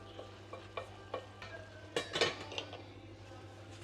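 Club steaks braising in a covered pan with butter and sugar, a soft low sizzle under scattered clinks and scrapes of a utensil against the pan, fairly quiet and close.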